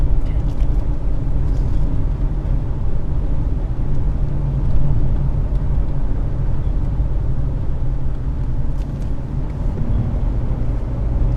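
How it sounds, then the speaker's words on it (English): A steady, loud car engine drone with a deep rumble, heard from inside as the car climbs hills in Montana; no voices. "hear the engine rev as we go up hills"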